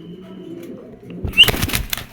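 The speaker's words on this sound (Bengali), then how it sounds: "অনেক সুন্দর একটা কবুতর, ছটপট করতেছে।" A pigeon flapping and fluttering its wings in the hand, a short flurry of soft rustling wingbeats arriving after a quiet start, close and fairly loud.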